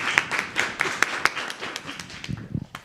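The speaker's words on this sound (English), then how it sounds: "let's clap for them again." An audience applauds presenters at an enterprise UX research event, a short burst of scattered hand claps with a few louder individual claps standing out, fading toward the end.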